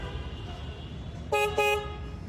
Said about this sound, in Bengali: প্রাইভেট কার হর্ন লাগাইছে এটাতে? হ্যাঁ, দেখি বাজাচ্ছ দেখি হর্নটা।